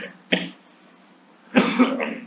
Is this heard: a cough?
yes